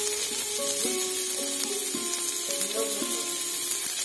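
Small potatoes fry in oil with salt and turmeric, a soft, steady sizzle close by with light stirring clinks and scrapes, no talking.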